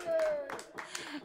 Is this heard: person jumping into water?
no